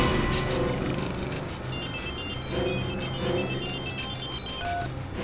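A telephone rings repeatedly in bursts, moderately loud against a busy background with no talking.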